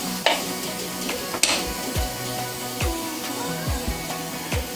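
Indonesian rendang stew sizzles and bubbles in a pan while a spoon stirs and scrapes it, a steady frying hiss broken by occasional clinks.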